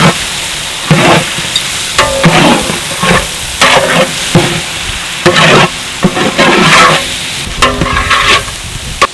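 Chopped carrots and potatoes fry in a pan for vegetable biryani, loud and close, with a constant sizzle broken by repeated scraping stirs of a spoon at a loose, uneven rhythm.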